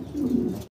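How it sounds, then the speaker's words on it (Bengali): A pair of pigeons gives one close, clear coo, low and throaty, lasting under a second and heard alone. "এক জোড়া কবুতর আছে এখানে"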